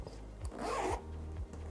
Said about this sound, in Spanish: Y aquí tenemos la cremallera.